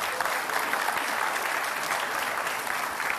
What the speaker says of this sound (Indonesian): kita beri tepuk tangan untuk kedua kandidat